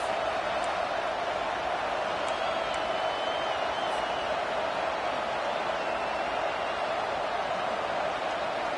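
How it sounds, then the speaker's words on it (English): Steady roar of a large stadium crowd in a video game, a dense even wash of voices and cheering holding at one level throughout with no single voice standing out. "This crowd bringing the energy and noise early."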